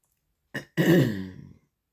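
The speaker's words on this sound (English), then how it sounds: "I'm sorry I have to keep clearing my throat" A single person with sinus drainage clears their throat up close: a short catch followed by a longer rasping clearing, then silence.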